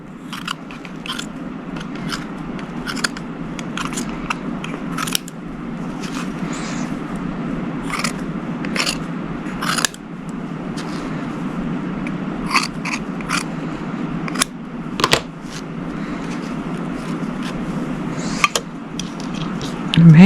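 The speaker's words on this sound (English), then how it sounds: "I'm going to use my fabric scissors for this." Fabric scissors snip through cloth in short, crisp bursts, several separate cuts spaced irregularly with quiet pauses between them, close up.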